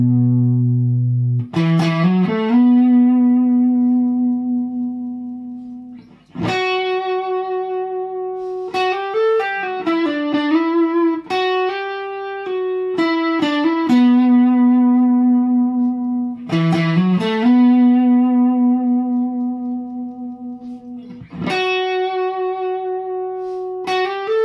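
A distorted electric guitar plays the lead solo from a song. Sustained, saturated notes bend and slide through a repeating phrase, loud and steady, with no voices.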